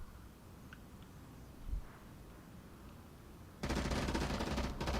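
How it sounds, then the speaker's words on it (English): Gunfire in the multiplayer VR shooter Onward breaks out after a quiet stretch, a sudden dense burst of automatic shots that lasts about a second and a half near the end. "Gunshots were fired."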